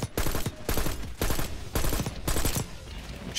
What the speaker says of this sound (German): So ein semi-automatisches Gewehr.